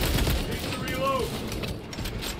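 Steady, rapid gunfire rattles continuously in the video game Warhammer 40K Space Marine 2, a dense barrage of shots holding at an even, fairly loud level for the whole moment.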